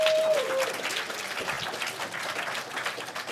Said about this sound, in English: Give a massive round of applause for these guys.